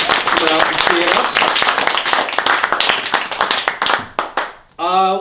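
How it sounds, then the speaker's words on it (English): Audience applause at an improv comedy show, dense clapping mixed with talk and cheering that thins out toward the end before a voice returns. "So give yourselves a round of applause for coming out and seeing us."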